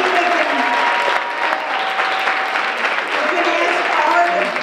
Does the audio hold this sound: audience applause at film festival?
yes